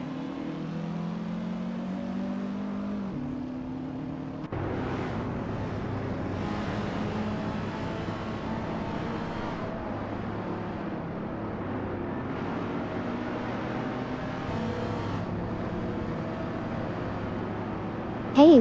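Race car engines in a racing video game drone and whine steadily, with the pitch shifting as the cars accelerate and change gear, at a moderate level with no talking.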